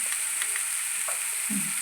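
A vegetable filling for momos fries in a pan toward golden brown, giving a steady bright sizzling hiss with a couple of faint stirring taps near the end, close and without speech.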